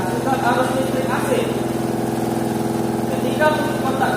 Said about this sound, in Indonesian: kita hidupkan motor yang ada pada belakang simulator untuk menggerakkan rotor